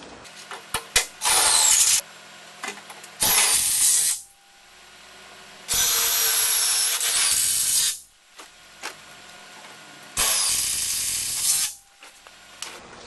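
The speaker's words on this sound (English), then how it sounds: "you have to drive them in with a self-driller screw" A power drill drives self-drilling screws into a metal skid plate on a Polaris Prowler, in four loud bursts of whirring, each a second or two long, with short quiet gaps and faint clicks between them.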